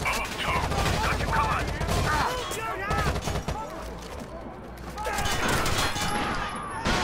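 Heavy gunfire in Rainbow Six Vegas: dense crackling bursts of shots rattle continuously, fading briefly in the middle before picking up again, with voices speaking amid the firefight.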